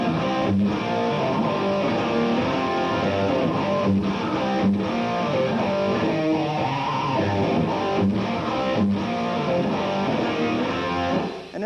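Rapid electric guitar lines from a 1980s rock instructional, fast runs weaving passing notes between chords, with a steady dense tone throughout and no talking.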